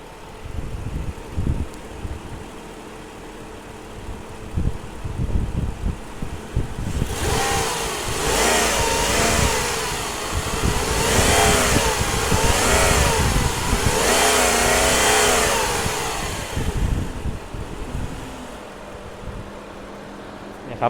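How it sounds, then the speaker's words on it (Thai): A 2004 Mercedes-Benz S500L W220 facelift with a 5.0-litre V8 idles quietly, then is revved repeatedly for about ten seconds, the engine note climbing and falling in several swells before settling back to idle. "เดี๋ยวผมจะเร่งเครื่องให้ฟังนิดนึงครับ"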